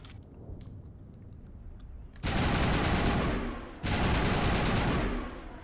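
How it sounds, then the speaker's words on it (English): Assault rifle fire from the game Mass Effect 1 comes in two loud sustained bursts, each about one and a half seconds long, after a quieter stretch of faint clicking. "Let's do assault rifle next."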